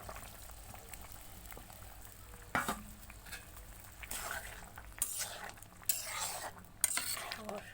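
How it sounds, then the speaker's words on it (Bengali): Fish cooking with spices in a pan is stirred with a utensil, giving a faint simmering sizzle under bursts of scraping and metallic clinks against the pan, close by, with no talk. "মাছটা এখন নাড়াচাড়া করে মশলা দিব"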